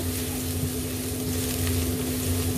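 Three cloves of garlic sizzle and fry in very hot oil in a wok, a steady crackling hiss with a low hum running underneath, close and continuous.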